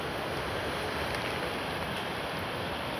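Surf and gusting wind at Songjeong beach in Busan during Typhoon Haishen, a steady loud roar of breaking sea waves and wind buffeting the microphone throughout, with no voices.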